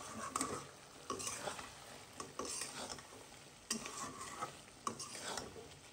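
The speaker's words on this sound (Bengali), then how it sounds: "এটা নাড়তে হবে আর কষাইতে হবে।" Meat is stirred and sautéed in a pan, with soft scrapes recurring about once a second over a continuous quiet sizzle.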